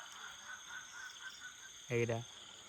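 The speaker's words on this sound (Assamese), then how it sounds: "ভেকুলী চাগে এইকেইটা।" A single short, loud croak of a frog rings out near the end over a quiet night background of faint insect chirring, at a rainy jungle campsite.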